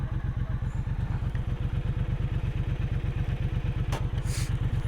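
A big new motorcycle idles in neutral in a parking spot, its engine thumping in a fast, even low pulse, close and steady throughout with a faint clink near the end.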